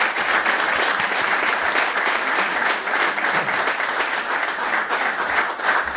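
Sustained applause from a large crowd honouring departing Juventus football coach Max Allegri, a dense, steady wash of clapping that stays at an even level without pause.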